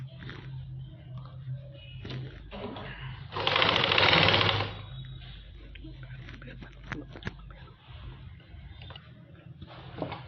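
A sewing machine stitches two pieces of fabric together while making simple palazzo trousers, a loud close whirring run of about a second amid softer handling clicks and thumps.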